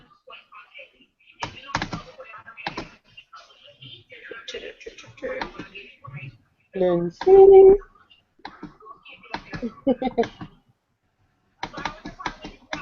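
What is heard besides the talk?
typing on a computer keyboard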